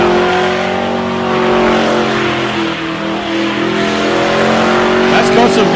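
A street drag car at the Casterton Street Drags holds a loud, steady high-rev engine roar that bounces against its rev limiter. There is a faint tyre squeal near the end and a crowd murmuring in the background.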